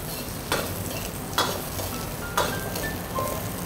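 Bamboo shoot and ginger slices stir-frying in a wok for braised yellow croaker, a continuous sizzle broken by several sharp scrapes of the spatula, close and loud, no talk.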